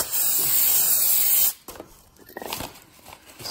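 Brake cleaner sprayed onto a clutch face during a clutch install on a wrecked Honda S2000, a loud, steady hiss lasting about a second and a half, then stopping abruptly into quiet handling noises.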